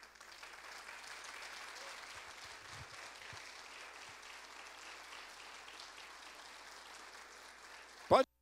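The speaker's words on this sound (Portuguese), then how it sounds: "Quero que vocês sejam aplaudidos aqui na frente" Indoor audience applause at the 2018 Nordestão opening, a soft, steady patter of clapping from a distant crowd, ending in a sudden loud thump.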